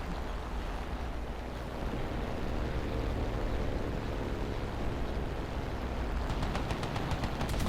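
P-51 machine guns fire in a flight combat video game, rapid rattling bursts that stand out toward the end over a constant loud roar of engine and wind.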